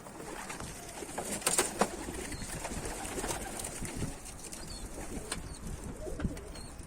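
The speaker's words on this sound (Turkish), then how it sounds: "Hemen şimdi kuşları bir kaldırayım." Pigeons, Akkanat white-tailed birds, coo softly at close range while wings flap in several quick bursts, with scattered rustling and clatter in the background and no talking.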